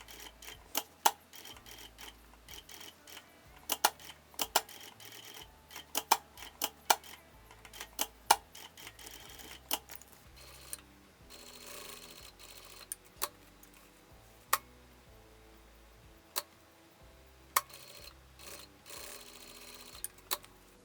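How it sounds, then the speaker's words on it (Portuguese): A sewing machine stitches a small-stitch seam around a tiny piece of fabric for a mini fabric backpack, with quiet ticking runs of stitching broken by brief pauses, up close and with no talk. "vou fazer também uma costura em volta"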